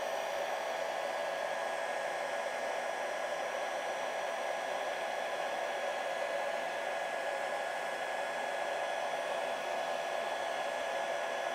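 A hair dryer blows steadily to dry a drawing, a loud, continuous close whooshing drone with an even tone that holds without a break for the whole stretch.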